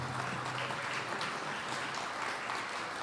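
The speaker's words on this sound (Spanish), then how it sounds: "Vamos a brindarle un fuerte aplauso." An audience at a regional dialogue forum on hydrocarbons and energy in Tarija claps for a panelist, an even, continuous patter of applause at moderate distance, fairly soft and without talk.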